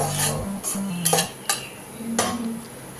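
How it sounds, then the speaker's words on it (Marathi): A spoon stirs a dal tempering with chopped coriander in a pan, giving several sharp metallic scrapes and clinks in an uneven rhythm over a faint sizzle. "आता यामध्ये बारीक चिरलेली कोथिंबीर घालून परत एकदा आपण हे सगळं मिक्स करून घेऊयात"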